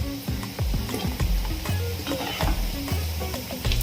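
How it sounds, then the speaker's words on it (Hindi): Baby corn deep frying in hot oil for a restaurant-style chilli baby corn gives a loud, steady, close bubbling sizzle with crackling pops throughout. "इसी तरीके से हम सारे बेबी कॉर्न को डबल फ्राई कर लेंगे 1 मिनट के लिए।"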